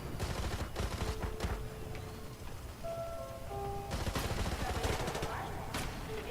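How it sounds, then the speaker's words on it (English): Gunfire from a video game trailer, rapid bursts of automatic shots near the start and again after a short lull, mixed with music tones and faint voices. "they're just walking in and shooting everyone"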